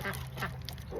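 Ducks on a homestead give a few soft quacks and honks at close range during a chicken watering system build, set against a steady low hum.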